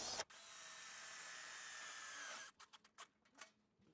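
Power drill driving a screw into a hoop house bow, a close steady whine for about two seconds, then a few short pulsed bursts as the screw seats.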